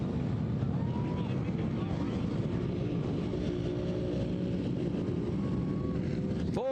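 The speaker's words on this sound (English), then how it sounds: "Four by 4B class off and rolling now as we hit that first turn." A pack of 4x4 B class ATVs rolls off a race start into the first turn, a dense steady engine roar filling the air beneath an announcer's voice.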